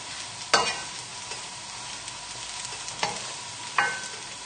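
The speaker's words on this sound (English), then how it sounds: "So just gently move it around the pan." Mushrooms frying in a pan for a creamy risotto give a quiet, steady sizzle, with three sharp scrapes as a spatula moves them around, near and alone.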